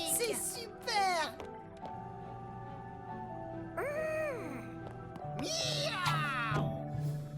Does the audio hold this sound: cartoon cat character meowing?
yes